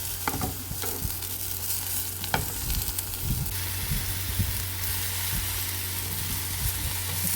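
Curry leaves, garlic and spices hit hot oil for a Sri Lankan capsicum curry, giving a continuous crackling sizzle broken by occasional stirring knocks over a low steady hum, with no talk.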